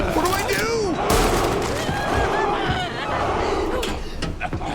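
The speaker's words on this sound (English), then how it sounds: "What are you doing? Stop shooting!" Rapid gunfire in a video game crackles in repeated bursts, loud and busy, while excited voices shout and talk over the shooting.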